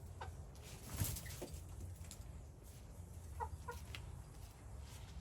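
Faint clucking from a few chickens, scattered soft calls over a quiet background hiss, with a slightly louder cluck near the start.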